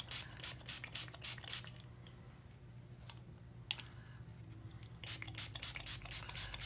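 Short bursts of spray paint hiss over a burlap mask laid on a craft surface, quick repeated sprays at the start and end with a quieter stretch of faint rubbing in between.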